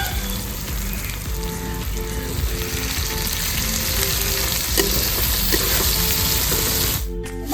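Constant loud sizzle of chopped tomatoes frying in a pan with onion and garlic, a dense crackling hiss with stirring noises, ending with a brief sharp clatter.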